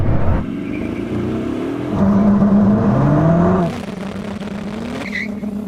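A Koenigsegg Jesko and a Bugatti Chiron Super Sport launch in a drag race, with engine revving that rises in pitch, tire noise, then a sudden drop as the cars pull away into a fainter roar.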